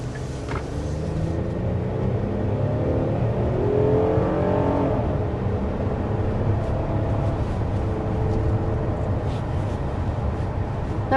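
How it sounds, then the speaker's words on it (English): Hyundai Palisade 3.8-liter V6 engine accelerating uphill, a steady rising drone with climbing engine tones over road and tire rumble, heard from inside the cabin without talk. "many of you guys may prefer the smooth power delivery and refined sound of a V6"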